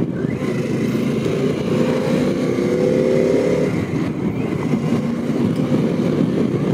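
A Harley-Davidson Pan America 1250 motorcycle is ridden at a steady pace, its engine droning continuously beneath heavy wind rush and road noise, with a brief rise in revs midway.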